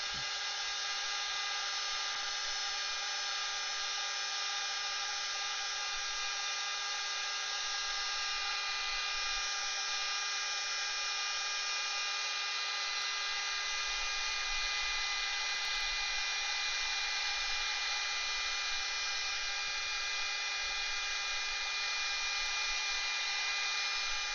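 A hair dryer blows over a watercolour page coated with a preparation product, giving a steady, even electric whir with a constant high whine that runs unbroken throughout. No one speaks.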